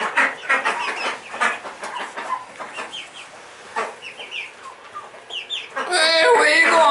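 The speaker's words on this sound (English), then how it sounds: "Hey, Mrs. Chicken. You're sitting on the food pot." Backyard homestead chickens cluck repeatedly at close range, a busy run of short, uneven calls that grows louder into a sustained squawking burst near the end.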